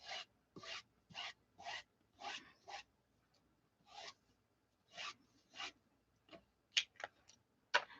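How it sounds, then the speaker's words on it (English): An ink pad is rubbed over vellum in short, dry rasping strokes, a dozen or so quiet close swipes in an uneven rhythm with brief pauses between. "I'm going to just rub over it with the ink pad at random."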